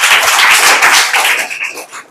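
A classroom of students claps loudly and densely together, the burst swelling then tapering off toward the end, with no talk over it.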